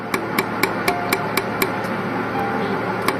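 A laser welding machine fires at a jewelry ring in a steady series of sharp, evenly spaced ticks, roughly four per second, close and fairly loud over a constant machine hum.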